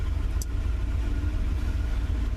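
A 1978 Corvette engine idles after a winter startup, a steady low rumble close by with no talk over it and a brief faint tick near the start.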